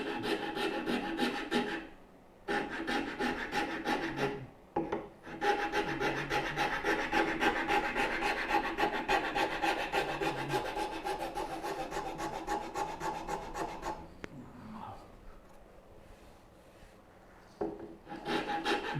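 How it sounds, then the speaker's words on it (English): Oryu rasp filing a curved wooden part, a close, continuous coarse rasping with fast repeated strokes, broken by a few brief pauses and a quieter stretch near the end. "It is that, an Oryu rasp, because I could get it left-hand stitched."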